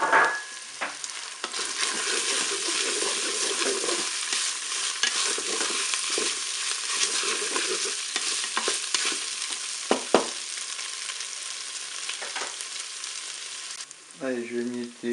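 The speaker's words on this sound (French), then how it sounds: "Je vais maintenant ajouter mes morceaux d'oignon." Onion pieces frying in a Cookeo multicooker pot, a loud sizzling hiss with scraping stirs and clatters, easing near the end where a brief voice is heard.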